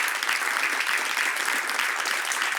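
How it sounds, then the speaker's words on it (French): A studio audience on a French talk show applauds steadily as a guest walks on, a dense, even wash of clapping that holds at full strength throughout with no break. "On l'applaudit pendant qu'il arrive."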